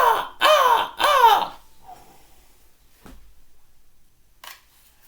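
Crows give three loud, harsh caws in quick succession close by. A long quiet stretch follows, broken only by faint clicks and a brief distant call.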